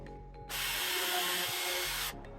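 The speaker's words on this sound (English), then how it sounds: "we go ahead and change your bit and start drilling them in" A power drill whirs steadily for about a second and a half, driving screws into a wooden planter box, loud and close, starting and stopping abruptly.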